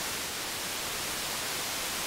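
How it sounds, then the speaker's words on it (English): Steady, unchanging white noise from an Erica Synths modulator, a flat full-band hiss held at constant level throughout. "that's my flat white noise from the Erica Synths modulator"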